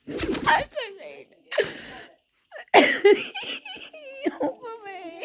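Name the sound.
puppy sneezing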